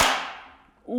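A Milwaukee impact wrench loosens a torqued bolt on an Alpina B7 engine, starting with one loud, sharp crack that fades away, followed by a short burst of rising whir at the end, close and loud.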